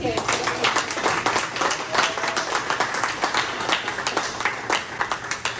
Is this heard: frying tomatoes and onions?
no